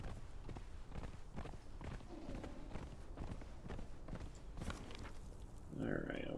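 Horse hooves trample in rapid repeated clip-clop strikes while riding in Conan Exiles, a steady run of close thuds under a talking voice.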